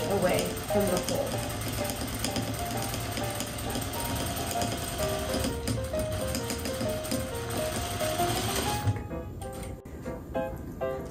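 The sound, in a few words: sewing machine stitching decorative trim on a pillow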